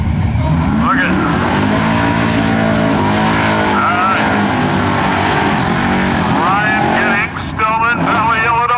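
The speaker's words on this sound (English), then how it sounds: "What do you think of the sound to that Nova?" A Chevy Nova superstock drag car at a Midwest drag race roars loud and close as it launches into a wheelie, its engine note sustained and rising, with a crowd and announcer voice mixed underneath.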